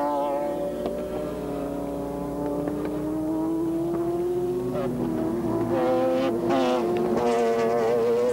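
BMW McLaren and Porsche GT2 race cars lap the tight Curitiba circuit during a 1996 Temporada race, engines droning loud and continuous with pitch rising and falling as they pass, several cars overlapping.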